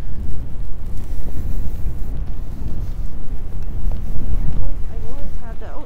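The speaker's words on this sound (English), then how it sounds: "Nasty wind blowing up Lawrence Street there." Strong gusts roar along a downtown street in Regina, buffeting the microphone with heavy, continuous low rumbling that surges and eases in waves, loud and close throughout.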